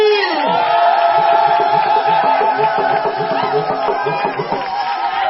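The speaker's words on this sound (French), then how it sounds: "On va applaudir pour ce couple." Wedding guests at a church celebration raise a loud, sustained roar of cheering and whooping voices, close and continuous with no break.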